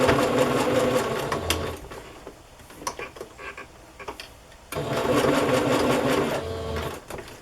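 A sewing machine zigzag stitching an embroidered piece onto fabric, running in two rapid whirring bursts with a quieter pause of clicks and handling between them, close and without talking.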